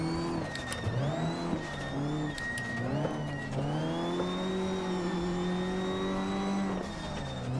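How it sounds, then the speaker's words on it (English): Rally car engine in Richard Burns Rally revs and drops through gear changes, with the note dipping and hesitating at shifts before climbing again, loud and continuous with no talk. "You could hear on the engine note too that it was a little bit of a hesitation moment as I clicked the shifter."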